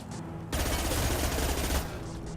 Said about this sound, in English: His mechs shoot without question.